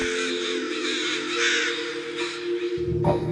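Many crows caw together in a loud, continuous raucous chorus, with a burst of scratchy noise near the end.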